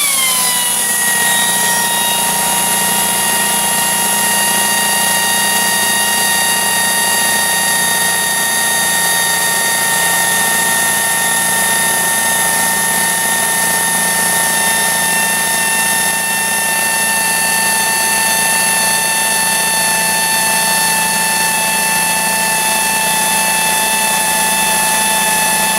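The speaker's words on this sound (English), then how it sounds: "I've got the air ratchet on now. We'll just run that before the compressor kicks off here." An air ratchet runs continuously on a Foxhunter 3hp 90-litre compressor, a loud, steady pneumatic whine with a constant mechanical drone that holds throughout without pause.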